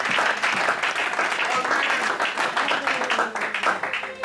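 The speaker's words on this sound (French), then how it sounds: "I will give God a big hand." Church seminar congregation clapping for Jesus, sustained loud applause from many hands filling the whole stretch, with a few voices mixed in.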